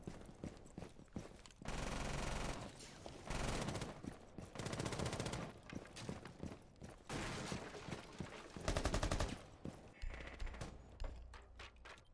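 Rapid bursts of gunfire in a Rainbow Six Siege esports grand final, a Legion shotgun firing in several quick clusters of sharp shots, fairly faint and without talk.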